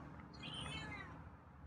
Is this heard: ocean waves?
no